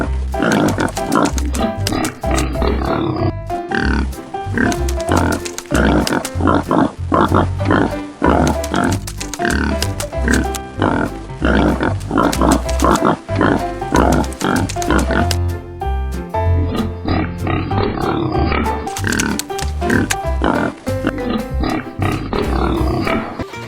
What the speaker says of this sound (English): Here are some pig.